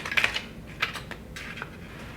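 Scissors snip apart iron-on vinyl stem pieces for a wood round sign, with a few crisp, close cuts clustered near the start and another near the middle. A quiet room hush sits underneath.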